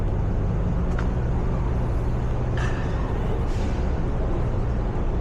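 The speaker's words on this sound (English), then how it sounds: "Here we go with a 5 o'clock traffic jam." Heavy 5 p.m. rush-hour traffic in Midtown Manhattan near 9th Avenue makes a dense, steady roar of engines, with a couple of brief hisses like air brakes over the constant rumble.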